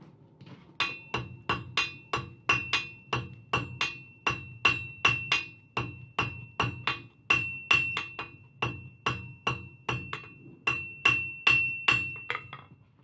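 A hammer strikes a wire-wrapped steel wheat sculpture to set a forge weld, ringing blows falling in a steady, rapid rhythm of about thirty hits, close and clear with no talk.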